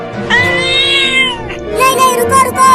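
A cartoon cat gives two drawn-out meows, the first long and high, the second rising in pitch after a brief pause, loud and close with no speech between them.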